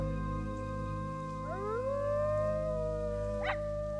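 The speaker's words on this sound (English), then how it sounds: "you can hear the wolves howling in the background too" Wolves howling in the Planet Zoo sandbox game, long rising and sliding howls at a moderate distance over a steady background hum, with a second brief cry near the end.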